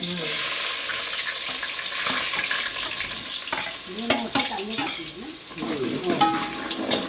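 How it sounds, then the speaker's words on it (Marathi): Onion dropped into a hot oil tempering of mustard seeds, curry leaves and asafoetida sizzles and crackles steadily, with stirring clatter and a few brief voices and clinks near the end. "मोहरी करते, कढीपत्ता टाकलाय, त्यानंतर हिंग टाकलाय, त्यानंतर आपण कांदा टाकतोय."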